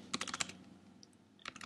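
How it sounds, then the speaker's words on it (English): Typing on a computer keyboard into a WordPress login form, a quick burst of light, close clicking keystrokes, a short pause, then a few more taps, quiet with no talk. "actually just type in some random stuff"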